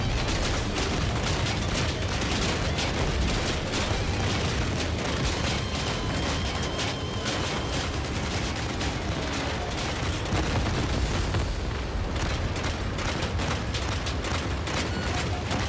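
Grenade-mode launcher blasts pound continuously during a boss fight in a video game raid, a dense barrage of overlapping booms and bursts with no pauses and no voices.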